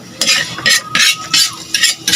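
Food sautéed in a pan, with rhythmic scraping and stirring strokes about every half second over a faint sizzle, close and fairly loud.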